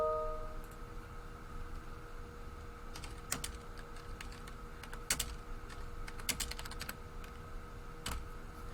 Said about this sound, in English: typing in their handle here, so typing in the @ symbol and then their name